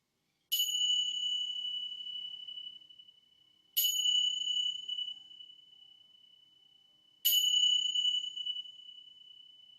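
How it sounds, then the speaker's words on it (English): Three bright bell strikes closing a yoga session, each a sharp ding that rings on and fades slowly, spaced about three seconds apart in otherwise quiet surroundings. "let the sound of the bells guide you back to your physical body once again on the mat inside this space."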